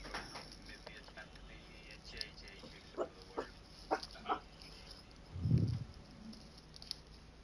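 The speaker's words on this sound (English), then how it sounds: "That's my dog making an appearance, by the way." A dog makes a few short yips and whimpers, moderately close, over steady background hum and light tapping.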